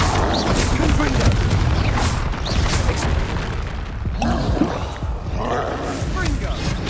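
Confringo explosive spell from Hogwarts Legacy, heavy booming blasts bursting through a dense, noisy combat mix, several loud impacts with spoken voices underneath.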